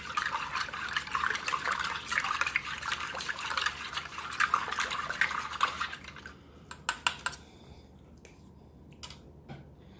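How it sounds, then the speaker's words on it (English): Spoon stirring a Russian MVD 24-hour ration meal in a metal pot or tin, a steady scraping and clinking run of close utensil sounds that thins out into a few sharp isolated taps near the end. "I'll give this a stir."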